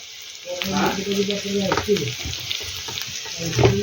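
Chopped onion, carrot and potato pieces sizzle and fry steadily in a pan, with clinks of stirring and a brief tap-water splash mixed in, moderately close.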